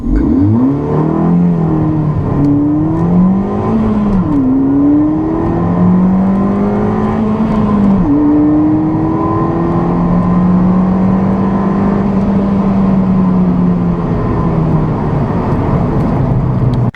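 A turbocharged car, a 2015 Buick Verano turbo or Ford Fiesta ST, pulls hard through its gears, engine note climbing, dropping at each shift and rising again, loud and continuous with no talking.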